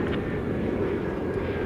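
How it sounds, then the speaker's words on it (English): An American Eagle Embraer 175 regional jet arrives at DFW Airport in calm conditions, its engines a steady, moderately distant broadband roar with no voices over it. "We've got an American Eagle flight coming in from Billings, Montana."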